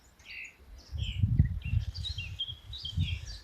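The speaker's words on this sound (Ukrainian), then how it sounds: "Такі цікаві якісь пташечки. І так вони виспівують рано гарно." Small birds chirp and twitter outdoors, with several high thin calls over a low rumbling background, the birdsong fairly faint and distant.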